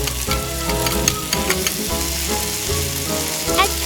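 Potatoes and carrots fry steadily in an oiled pan while being stirred and flipped, close sizzling with scraping and clattering utensil knocks over nearly four seconds, no voices.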